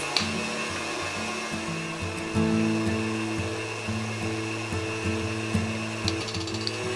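An electric mixer blends cinnamon into pumpkin cookie dough, its motor giving off a steady, close whine with a slight wobble in pitch that runs unbroken throughout.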